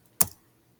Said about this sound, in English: so type 5 divided by 8.